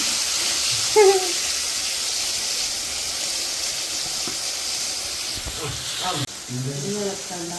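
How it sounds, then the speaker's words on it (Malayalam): Chicken pieces frying in hot oil, dropped in one at a time, give a steady loud hiss and sizzle throughout, with a brief splutter near the start and a change in tone toward the end. "ഇത് റെസ്റ്റ് ചെയ്യാൻ വെച്ച ചിക്കൻ നമ്മൾ ഇതിലേക്കിട്ട് പൊളിക്കുക കേട്ടോ"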